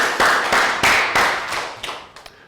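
A classroom round of applause: a short burst of clapping, fairly close and loud, fading and thinning out over a couple of seconds.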